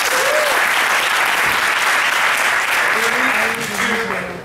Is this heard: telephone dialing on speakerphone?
no